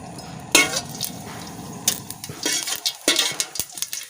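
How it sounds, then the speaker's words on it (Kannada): Irregular pops and crackles of a teaspoon of mustard seeds spluttering in hot oil for Mangalorean masala avalakki, with occasional clinks of a utensil against the pan; no talking. "ಇವಾಗ ಸಾಸಿವೆ ಕಾಲೆಲ್ಲ ಚೆನ್ನಾಗಿ ಸಿಡಿತಾ ಉಂಟು"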